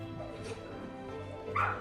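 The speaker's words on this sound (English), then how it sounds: "they put the sound of her dogs and how the room must have sounded like" Recorded dogs played back in a room at Kensington Palace give a short whimper and yip with a higher bark-like burst near the end, soft and slightly distant over a low background hum.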